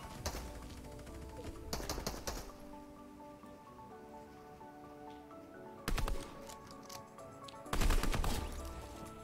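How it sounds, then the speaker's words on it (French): Gunfire in the video game Fortnite: rapid bursts of shots in short volleys, separated by quieter stretches of game ambience, with no talking. "Ça, c'est des tirs opportunistes, ça s'appelle."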